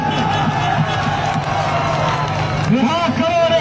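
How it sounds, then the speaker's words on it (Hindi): A large crowd at a PTI political march in D Chowk, Islamabad, claps and cheers outdoors in a dense, continuous roar, with voices shouting through it. "तालियों की गूंज बताइए इमरान खान से कितना प्यार करते हैं।"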